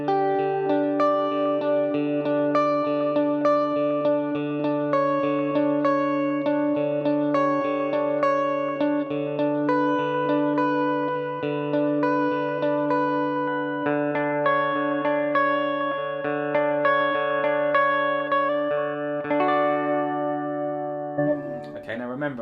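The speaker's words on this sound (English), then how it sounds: "Next thing I'm going to add in is a carbon copy delay by MXR" Sustained electric guitar chords and single notes through an MXR Carbon Copy delay pedal and Marshall Origin 50 head, with repeating echoes trailing behind each strum, played steadily and close, ending with a brief scrape.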